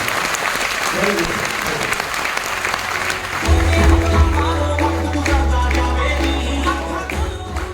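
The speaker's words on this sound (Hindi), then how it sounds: "हम इन मेहमानों के लिए बहुत तेज से ताली बजाएं।" Audience at a direct-selling business event in Jalandhar applauds the guests, loud sustained clapping from a large crowd with a heavy low hum or music swelling underneath partway through.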